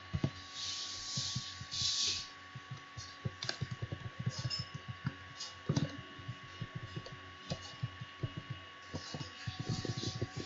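Keys clack on a computer keyboard as a print command is typed into statistical software, giving close, irregular clicks in short bursts and pauses with no talking.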